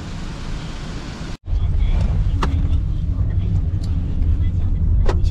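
Road traffic in a jam near Wuhan, China, heard from inside a taxi: a steady low engine and road rumble with wind noise, a brief dropout early on, then continued drone with faint passing sounds.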